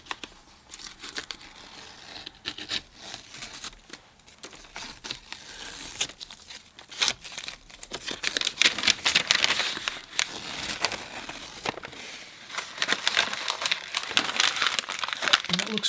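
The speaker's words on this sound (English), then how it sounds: "we can just peel off the tape and sort of see how it looks" Masking tape peeled slowly off watercolor paper, a long crinkling, tearing rustle with uneven bursts that grows louder toward the end, close by.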